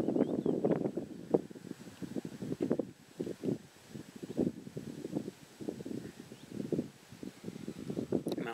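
Wind buffets a camera microphone outdoors in Scotland, a close, uneven rumbling roar of gusts and pops that rises and falls throughout without talk.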